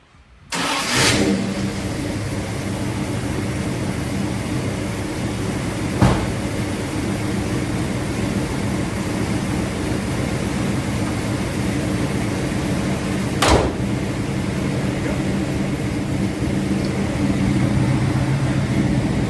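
A Little Red Express truck engine cranks, catches and settles into a steady, even idle that runs for a long stretch. Two brief bumps or clicks stand out over the close, constant drone, with no talking.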